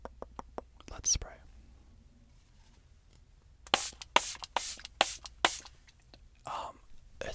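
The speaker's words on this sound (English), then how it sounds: "It sounds like a very boxy spray" A spray bottle fires a series of sharp, hissing bursts in a quiet room, a few early and a denser run of about seven near the end, with soft whispering in between.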